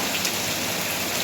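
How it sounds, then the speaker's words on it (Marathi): Monsoon rain falls steadily outdoors, an even, dense broadband hiss of drops on surfaces, moderately loud and unbroken, with no voices. "भिजायचं नाही बघ, आता आताच्या पावसात भिजून सर्दी होते"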